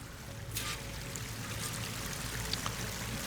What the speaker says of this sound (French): Cette eau doit bien venir de quelque part.